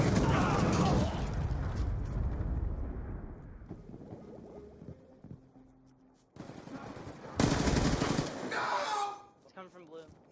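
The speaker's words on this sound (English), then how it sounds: "Friendly Hellstorm missile inbound" A Hellstorm missile strike in Black Ops 2 multiplayer, with loud rumbling blasts and gunfire-like bursts mixed under game voice callouts, a lull in the middle, then a sharp new burst of explosive noise near the end.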